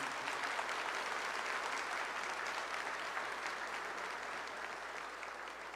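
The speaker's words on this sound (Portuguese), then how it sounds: "Vamos aplaudir poderosamente." A church congregation claps steadily throughout after a Gospel reading at a Catholic service, a continuous wash of many hands that is even and full, with no voices over it.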